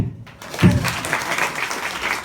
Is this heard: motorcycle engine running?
no